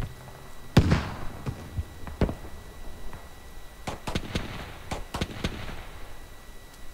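Sharp gunshots crack out in scattered bursts, a heavy boom early on, over a constant low rumble of a tank engine in the video game Squad, with no talking.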